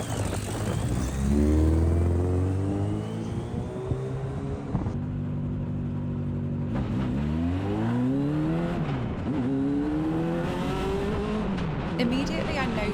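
A race car at full throttle with its restrictor bolt removed screams around a track, its engine climbing and dropping through repeated gear changes and corners, loud and close from onboard, with a voice talking over it.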